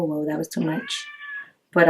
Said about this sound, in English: I don't know if you guys can hear my cat going crazy in the background